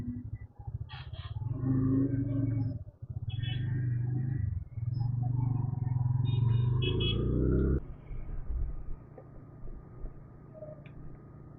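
A bike taxi motorcycle in Kolkata idles and rides out, a low steady engine rumble with shifting pitch for several seconds that then drops away to quieter background, with brief horn-like tones above.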